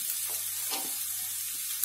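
Potatoes and turmeric go into a pan of lightly fried onions for a bread pakora filling, giving a soft, steady sizzle with a few faint stirring scrapes, close and quiet, with no talking.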